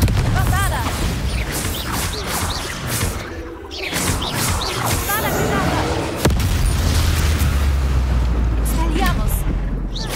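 Confringo fire spells burst in Hogwarts Legacy amid game combat, dense booming blasts and crashes layered with music and effects, while someone talks over the action.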